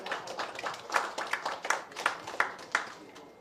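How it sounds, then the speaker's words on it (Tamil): Audience at a single album launch event clapping for the heroine, a sparse, uneven round of handclaps with distinct individual claps standing out, moderately close, fading toward the end. "ஒரு பலத்த கைத்தட்டல் கொடுத்துடலாமா?"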